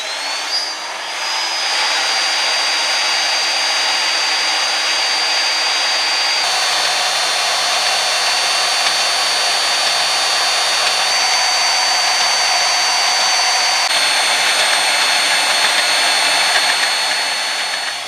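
Steel strip being cut for a handmade knife blade, a steady loud whining power-tool drone with a high tonal edge, running continuously for the whole stretch without pause or talk.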